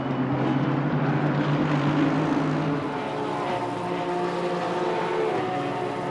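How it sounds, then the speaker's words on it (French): An Aston Martin V12 Vantage in a sim racing game, its engine holding a steady, loud, droning note that shifts pitch slightly partway through, with no voices over it. "Oh, écoutez-moi ce V12,"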